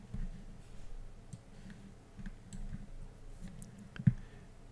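Quiet computer mouse clicks sound while installing drone firmware, small faint ticks spaced irregularly against a low room hum, with one sharper, louder click near the end.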